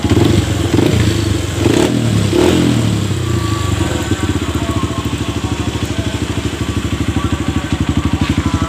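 A Honda CRF motorcycle engine runs close and loud, with a rough, uneven start that settles into a steady, rapid idle throb with light mechanical clatter.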